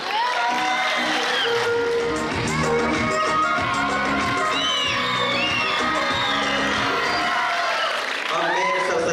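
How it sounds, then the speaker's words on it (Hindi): An audience at a school annual function award ceremony claps and cheers loudly, with whoops and shouting voices mixed into steady applause throughout. "अब आपके भरपूर तालियों में मैं सर साजिद को दावत देता हूँ कि वो आ जाए।"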